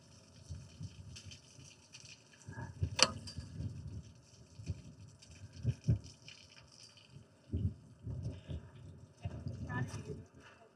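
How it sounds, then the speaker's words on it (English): Water gushes and splashes in uneven bursts as an RV tank drains, with intermittent draining flow close by and some clanking between surges. "basically we'll just let that all drain out properly. See that draining out of there."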